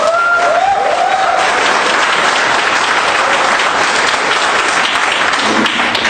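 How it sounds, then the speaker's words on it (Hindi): A large crowd at a network marketing meeting breaks into loud, sustained applause, a thick continuous wall of clapping that stays full and near throughout, with no talk above it. "एक बार जोरदार ताली होनी चाहिए।"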